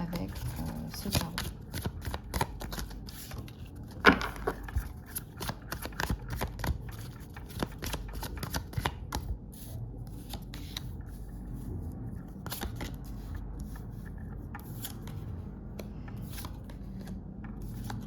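Tarot cards are shuffled again and again with crisp riffling bursts, while someone speaks French over them throughout.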